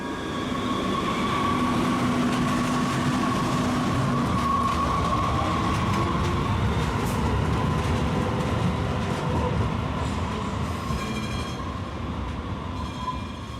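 A San Francisco MUNI Metro light-rail train on the J line rumbles past at close range, a steady loud rolling roar with faint squeals and clatter throughout, fading slightly near the end.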